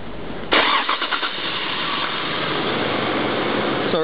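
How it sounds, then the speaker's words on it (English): A car engine cranks and catches, with a sharp onset of churning starter bursts settling into a steady, fairly loud run at raised idle while cold, close by with no talk. "let me start the car really quick"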